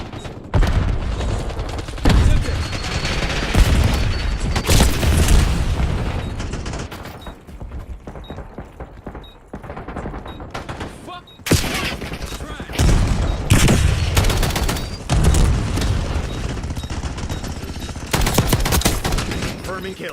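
Loud bursts of gunfire and booming grenade explosions in a video game firefight, with rapid volleys, heavy blasts and brief lulls repeating close and intense throughout.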